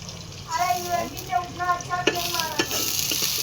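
Potatoes fry in a pan, giving a close sizzle with rhythmic stirring and scraping, while someone speaks over the cooking.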